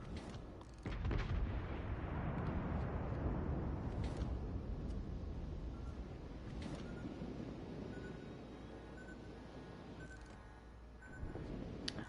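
Heavy battleship guns fire 18-inch American armor-piercing shells in the naval combat game World of Warships: Legends. A deep, rumbling boom swells and rolls on for several seconds, followed by fainter distant blasts and a final sharp report.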